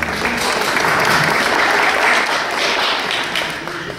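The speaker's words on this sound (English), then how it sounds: "Get some applause." Warm applause from a meeting audience welcoming a new member rolls on steadily at close range, full and even, tapering slightly near the end, with no talk over the clapping.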